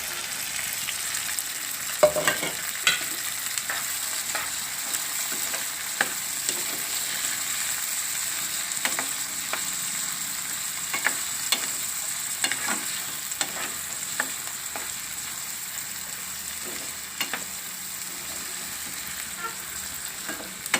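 Green choli beans and peas frying in oil for a Gujarati shaak, a constant near sizzle broken by frequent sharp clicks and scrapes of a spoon against the pan, with no talking.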